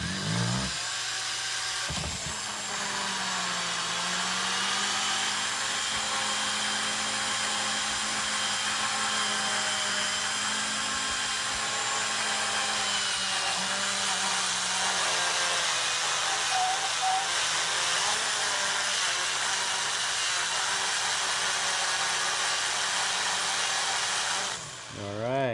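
An engine valve being smoothed with 800 grit sandpaper, likely spun on a power tool, produces a steady close whirring drone with a constant rasp that runs unbroken for about 25 seconds before cutting off.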